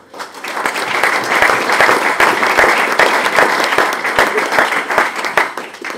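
An audience at a golf writers' awards event breaks into applause, a dense, sustained wash of many hands clapping that swells quickly and holds for several seconds.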